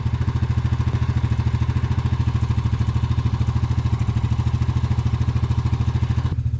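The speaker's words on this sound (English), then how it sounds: "have to make sure we get the ATV in there too, right?" An ATV engine idles steadily at an access point on a trail, with a loud, even low putter that pulses at a fast regular rate, then cuts off abruptly near the end.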